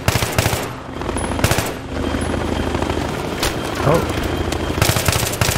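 Machine gun fire in Battlefield 3 crackles in rapid bursts alongside explosions and a helicopter's rotor, with a man briefly exclaiming over the loud gameplay.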